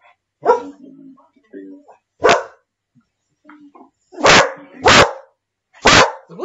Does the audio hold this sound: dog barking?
yes